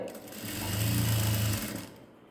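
A sewing machine stitches a fancy saree blouse in one short, steady run that swells and fades, with a low motor hum under the rapid needle rhythm.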